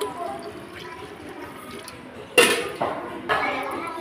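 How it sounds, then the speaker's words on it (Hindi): Hot water is poured into a pot of mixed masoor dal in three short splashing bursts after a quiet stretch of low kitchen background. "गर्म पानी हम इसमें डाल देंगे"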